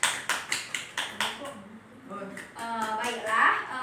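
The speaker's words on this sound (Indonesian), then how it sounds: "Mari kita beri aplaus dulu untuk teman kita yang telah berpartisipasi aktif." Classroom applause for a participating classmate, a few sharp, evenly spaced hand claps close by, then children's voices chattering and talking over one another.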